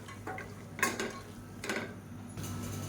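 A spoon stirs soaked dried peas in a pan, making three or four short scraping strokes over a low constant sizzle, close by and with no talking.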